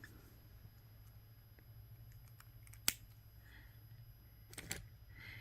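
Scissors snip bracelet cord free from its spool in a quiet room: one sharp, close cut, then a second crisp snip moments later, with faint handling rustle between.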